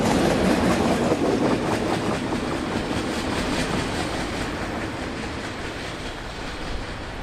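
A freight train rolls past on a cool September day in Jacksonville, a steady loud rumble with rhythmic wheel clatter that fades slightly toward the end, with no voices.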